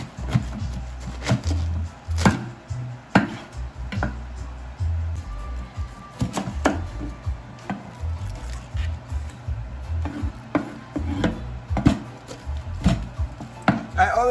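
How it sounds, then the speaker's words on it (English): A knife cuts cabbage into large chunks on a board, making repeated close, crisp chopping thuds at an irregular pace throughout. "I'm gonna start by cutting my cabbage."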